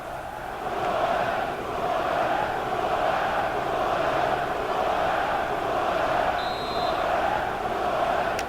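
A football stadium crowd at Houston Dynamo against Seattle Sounders, a broad, sustained roar of massed voices in rhythmic swells, steady and distant, filling the background.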